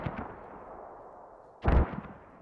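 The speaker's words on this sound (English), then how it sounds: "Oh, they're getting mortars." Mortar fire in the SquadOps video game: one muffled boom starts the clip, then after a faint lull a heavier, close blast lands with a deep thump and a short rumbling tail.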